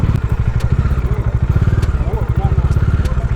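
Black Bajaj Pulsar 250 motorcycle arriving at a service centre, its engine thumping in a steady, loud, close idle rhythm throughout, with people talking over it.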